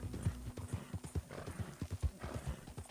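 Horse hooves clip-clop in Red Dead Redemption 2, a steady run of sharp, close hoof strikes at a brisk rhythm, heard alone without talk.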